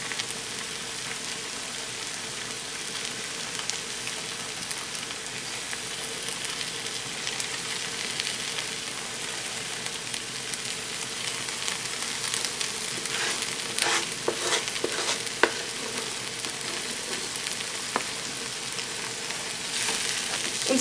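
Fried rice with vegetables, egg and chicken thigh sizzles steadily in a pan, a dense continuous crackle with a few sharper pops and stirring scrapes toward the end, close and alone without talk.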